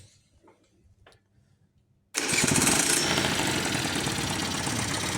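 After a quiet stretch with a few soft knocks, a Honda Dio scooter engine fitted with an Alfa carburetor starts abruptly and idles in a loud, fast, rattling two-stroke buzz up close.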